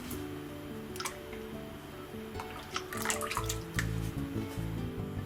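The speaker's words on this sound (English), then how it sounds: "get a mixing bowl and add 600 mils of pouring cream or pure cream like this" About 600 ml of pouring cream goes into a mixing bowl: a steady liquid pour with soft splashing that swells and gets a little louder toward the end, close up with no voices.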